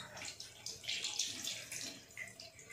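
A water tap runs during wudu ablution washing, giving a soft, steady stream with gentle splashing and shifting gurgles, heard faintly and alone.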